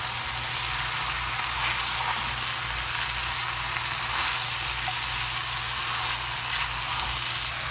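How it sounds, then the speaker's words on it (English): Zharkoe stew sizzling and frying steadily in a pan as it is stirred, a continuous close hiss with a low hum beneath and no voices. "I'm going to give it a stir."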